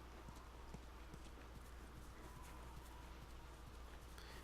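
A horse's hooves clip-clop in a steady walking rhythm inside The Last of Us, soft and fairly distant beneath a constant low ambient rumble.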